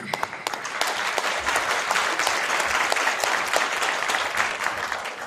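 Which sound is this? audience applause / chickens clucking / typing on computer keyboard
audience applause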